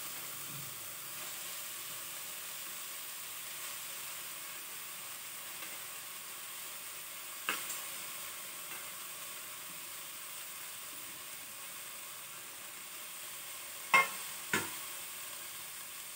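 Cassia tora (takilo) leaves frying in a pan make a quiet, continuous sizzle, broken by a few sharp taps of a utensil against the pan.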